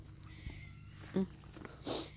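A short cat meow rises once amid quiet room noise, with a soft thump just before it.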